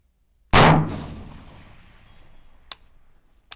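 A single sharp, loud crack from an MK12 Mod 0 AR-15 rifle fired at a long-range target, with a long decaying echo rolling across open ground and two faint distant clicks or impacts afterward.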